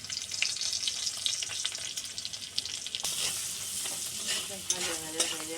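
Turmeric and chili powder fry in a pan with a crackling sizzle and scraping stirs. The sound grows brighter and more intense partway through, and there is no talking.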